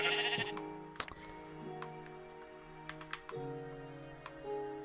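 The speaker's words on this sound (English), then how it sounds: "We are going to kill the sheep with a pickaxe." Minecraft sheep bleat in the video game, one quivering bleat at the start and another shortly after, over layered game tones and soft clicks like keyboard taps.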